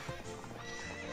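A horse in the video game Ocarina of Time gallops in quick clip-clop hoofbeats, mixed with a whinny, in a brief, faint burst of game sound.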